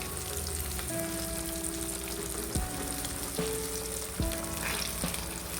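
Vegetable cutlets frying in hot oil over a medium flame, a dense, steady close sizzle with a few faint clicks and taps as pieces are placed or moved, no speech.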